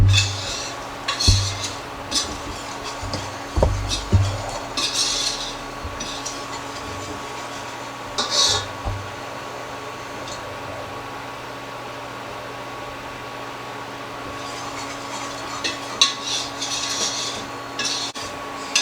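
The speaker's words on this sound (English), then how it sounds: "Just keep stirring it around." Flour roux for seafood mac and cheese being stirred in a pan, a repeated scraping rub of utensil against metal in bursts, with quieter stretches of steady background hum between strokes.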